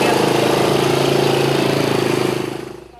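A motorcycle idles at a roadside police checkpoint, its engine putting out a steady, rhythmic mid-pitched chug close by before tapering off and fading near the end.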